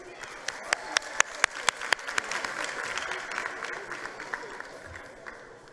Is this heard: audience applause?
yes